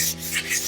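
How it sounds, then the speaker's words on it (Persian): Hand sanding of dried putty on a wall with sandpaper before plastic paint, a steady soft rasping rub that swells and fades in gentle strokes, close and alone. "شروع میکنیم به سنباده یا پوستاب زدن"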